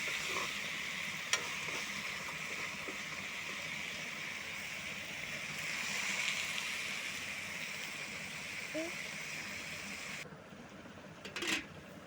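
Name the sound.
goat meat frying in a pan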